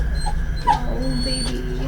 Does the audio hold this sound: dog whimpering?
yes